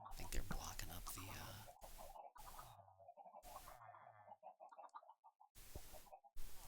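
Video game chickens cluck in short, soft bursts from a farm area, scattered and fairly faint between stretches of someone talking quietly, with brief silent gaps.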